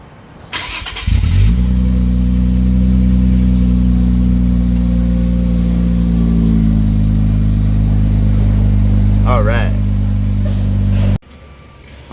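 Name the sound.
Infiniti Q50 Red Sport VR30 engine startup with Stillen axle-back exhaust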